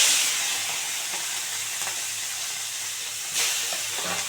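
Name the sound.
prawns marinated in salt and turmeric frying in white oil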